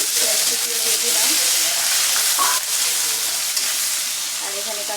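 Chopped onion sizzles steadily in hot garlic oil while a Malabar spinach fry is being cooked, a loud continuous hiss and crackle with faint stirring and no talking.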